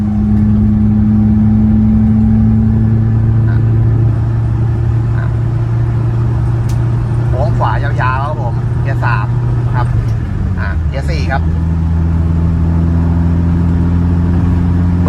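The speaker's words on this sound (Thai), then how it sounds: "ดังสะใจครับ เสียงท่อ นะครับ เกียร์สามนะครับ" A Nissan Sunny B11 with a loud exhaust drones steadily in third gear, close and loud, with the engine note dipping near the end while someone talks over it.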